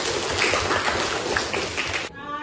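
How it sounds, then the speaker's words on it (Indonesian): A classroom of students clapping together in a dense, sustained burst of applause lasting about two seconds, then breaking off abruptly. "Tepuk tangan untuk kita semua."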